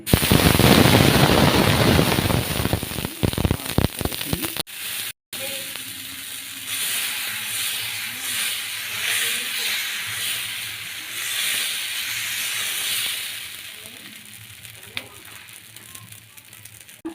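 Ragi dosa batter spread on a hot pan gives a loud crackling sizzle that fades to a softer steady hiss, with some faint clatter of handling.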